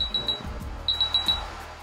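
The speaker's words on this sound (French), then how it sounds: "le bip qui est assez énervant, avec lequel on se fait repérer" Short high-pitched electronic beeps from a DJI GO 4 simulator landing a DJI Mavic Pro drone come in two quick bursts, a pair followed by a faster run of four, over a faint background hum.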